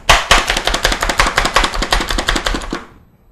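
A knife chops broccoli on a board in quick, evenly spaced close strikes, about two dozen sharp taps that stop abruptly near the end, with no talking.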